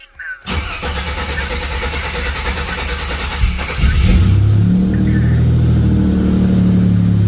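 A Buick Grand National fitted with a Precision 6266 turbo cranks and fires up, the starter whirring briefly before the engine catches with a rev and then settles into a loud, steady idle close by.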